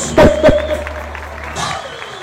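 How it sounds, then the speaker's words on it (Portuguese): A crowd applauds at a religious gathering as an image of Our Lady Aparecida is carried across the floor. Two sharp bangs come first, then a soft, spread-out wash of clapping and murmur. "Uma salva de palmas."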